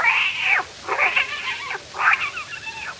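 A kitten curled up inside a boot meows several times, close and clear, in short plaintive cries with brief pauses between them.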